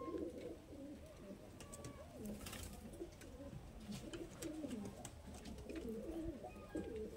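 Madras pigeons with green eyes coo continuously, several birds overlapping in low, rolling calls at close range, with a few brief higher chirps and faint background noise.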